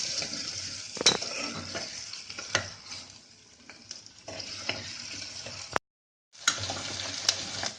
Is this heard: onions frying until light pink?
yes